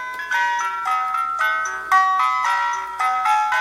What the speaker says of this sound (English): So I'll play a little tiny clip of London Bridges here.